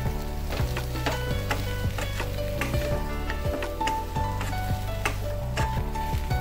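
Potato sabji frying and sizzling in a pan while a spoon stirs it, steady sizzle with repeated close scrapes and knocks of the utensil against the pan.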